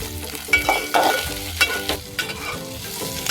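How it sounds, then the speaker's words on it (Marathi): Chopped onion frying in a pan for a traditional Marathi ghol bhaji, a soft sizzle broken by clinking and scraping as the pieces are stirred, a few sharp knocks standing out, with no talking. "कांदा परतवलेला आहे, परतवून झालेला आहे."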